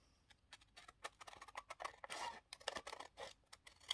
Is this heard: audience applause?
no